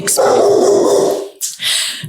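A dog barks and whines close by, one long drawn-out vocal followed by a short sharp yelp, loud against otherwise quiet surroundings.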